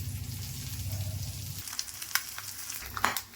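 Egg roast spattering and popping in a hot pan, a steady sizzle first, then sharp scattered pops and crackles, close and clear with no voice.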